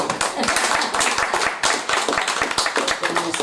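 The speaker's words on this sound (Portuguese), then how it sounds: "Uma salva de palmas para essa notícia." A lecture audience gives a short round of brisk clapping, a dense patter of hands lasting a few seconds, with voices mixed in underneath.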